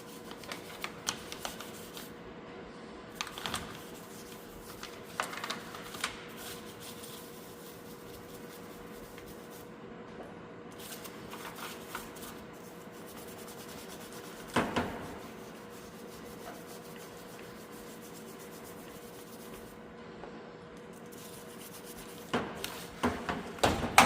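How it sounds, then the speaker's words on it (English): Nylon brush scrubbing dirt and grease off a planter meter where the belt runs, close-up bristly rubbing strokes in bursts with occasional knocks and clatter of parts, no talking. "Now I'm going to take our nylon brush and we're going to clean up any dirt, grease"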